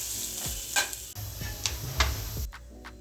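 Paneer cubes frying in a pan for paneer biryani, stirred with a few sharp spoon scrapes and clinks over a steady close sizzle, with no talking.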